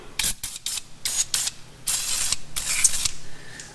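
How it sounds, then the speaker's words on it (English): Penetrating oil is sprayed in a series of short hissing bursts onto rusty strut and brake-hose hardware on a 2006-2011 Honda Civic with the wheel removed, close and fairly loud with brief pauses between sprays. "take your penetrating oil of choice. Soak everything down liberally."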